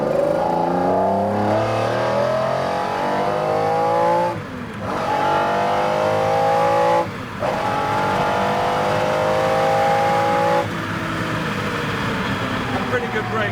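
A McLaren F1 supercar's engine roars close by under hard acceleration, its pitch climbing steeply through several gears with short drops at each upshift.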